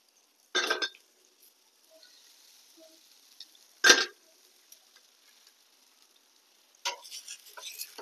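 Thalipeeth flatbread fries in oil on a pan. Three short crackling bursts of sizzle break out a few seconds apart, with a faint quiet hiss between them.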